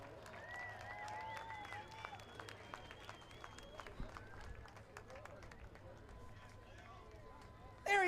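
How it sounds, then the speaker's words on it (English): A speedway crowd at Owasso Speedway applauds driver Dustin Workman as he climbs out of his car, faint distant clapping with an announcer talking over it and engine tones drifting in the background. "give him a big Owasso Speedway round of applause as he gets ready to climb out of that car"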